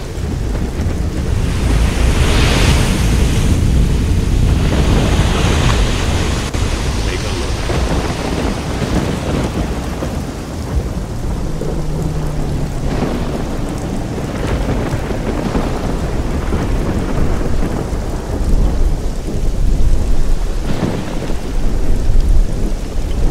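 A loud video-game thunderstorm with heavy rain, rumbling thunder rolling in repeatedly over a constant wash of downpour.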